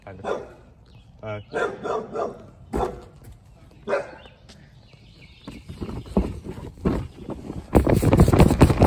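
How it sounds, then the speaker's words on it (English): A dog barks outdoors while weeds and pine cones are being picked, giving a few scattered barks among nearby talk and rustling. "That was a dog."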